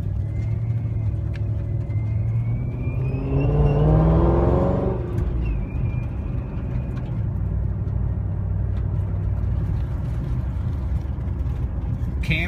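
Supercharged, cammed Dodge Challenger SRT8 engine with a 3.6 Kenne Bell blower, building into one loud rev that swells and falls back to a steady rumbling idle, heard up close with no talking.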